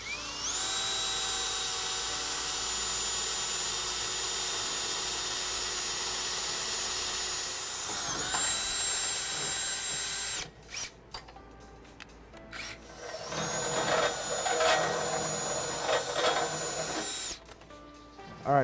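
A power drill bores a half-inch hole through the frame of a 2017 Ram 1500 truck, a loud steady whine for several seconds, then stuttering bursts and grinding as the bit works through the metal.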